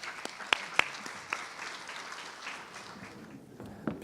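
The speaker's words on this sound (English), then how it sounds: "Please welcome Ali Shikara with a round of applause" Applause from guests at a gala dinner as a speaker is welcomed, a fairly soft, diffuse patter of clapping with a few sharper nearby claps standing out early on, fading slightly near the end.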